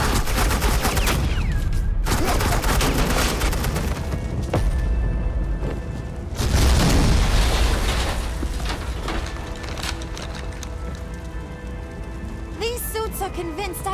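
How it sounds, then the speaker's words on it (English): Bursts of suppressing gunfire in the Batman The Enemy Within video game, loud and close, with dense volleys that swell and recede over a steady rumble of action noise and occasional voices. "suppressing fire"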